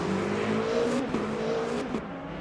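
Porsche race car pulling out of the pit lane after a short stop in a Qatar sprint round of a sim-racing series, its engine revving steadily and fairly close, with a brief rising pitch.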